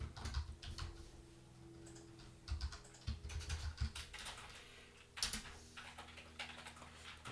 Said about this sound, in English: type in the thermostat and the temperature